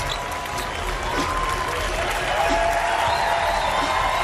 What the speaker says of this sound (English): Cap One crowd enjoys it.